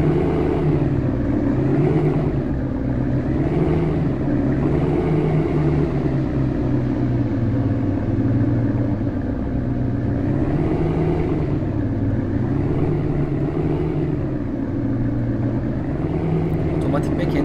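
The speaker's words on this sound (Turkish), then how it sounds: "Arabamızı çalıştırıyoruz, el frenimizi indiriyoruz." A classic car engine in the Real Car Parking mobile game starts and idles with a continuous, close humming rumble that rises and falls in slow, regular waves over about seventeen seconds.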